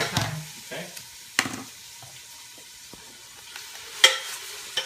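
Onions cooking in a pan for chili give a faint low sizzle, broken by a few sharp scrapes and clinks of stirring, close by in a quiet kitchen.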